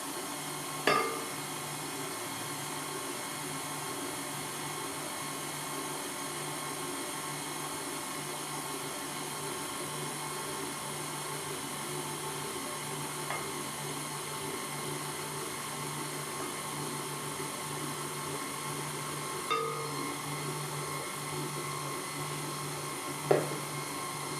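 A KitchenAid 5-quart Artisan Design Series stand mixer with a glass bowl runs steadily at speed 2, mixing flour with baking soda and salt, a continuous motor hum with a few faint knocks.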